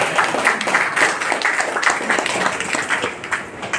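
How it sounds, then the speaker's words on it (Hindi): Audience clapping at a distributor training gathering, a steady dense patter of many hands sustained throughout at moderate loudness with no clear pauses. "ताली मारिए भाई।"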